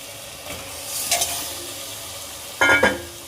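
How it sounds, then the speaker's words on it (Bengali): Papaya being sautéed with mutton in oil for a Bengali mutton curry, with a soft continuous sizzle and two louder bursts of stirring and scraping in the pan, close by, no talking. "এবার আমি পেপারটা একটু কষে নেবো"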